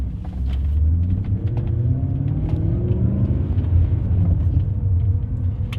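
A BMW E39 M5 V8 pulls away in first gear, a deep steady engine rumble rising gently as it accelerates, close and fairly loud with no talk over it.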